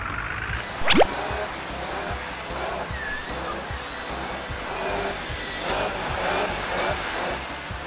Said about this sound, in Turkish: Bu tam elektrikli süpürgeye göre.